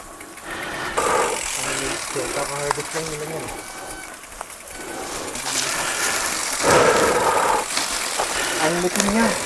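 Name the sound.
motor pump engine running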